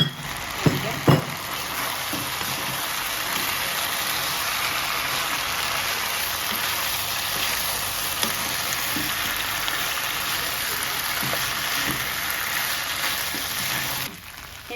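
Fried chicken goes into sizzling chilli chicken gravy with a steady, close frying hiss. A few clinks of stirring sound near the start, and the sizzle stops abruptly at the end.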